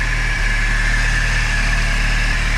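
A turbocharged Fiat Spider engine idles steadily, a constant low rumble with a faint higher whine, close by and loud, with no voices.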